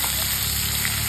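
Masala fish fries in a hot pan with a dense, continuous crackling sizzle, loud and close, holding steady throughout the brief moment without any talking.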